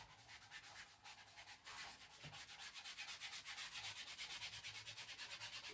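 Paint is scrubbed onto a block in quick, rhythmic back-and-forth strokes, a steady, faint rasping rub that speeds up into a regular pattern.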